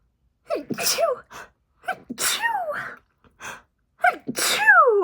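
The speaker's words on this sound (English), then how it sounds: "I'm about to sneeze." Three sneezes close to the mic, each starting with a sharp intake of breath and ending in a loud, forceful burst.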